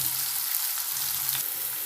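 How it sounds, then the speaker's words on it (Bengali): Steady frying sizzle from potatoes in a hot pan, a continuous crackling hiss with faint stirring scrapes, close and alone. "আলুটা একটু লাল লাল ভাজা করবো"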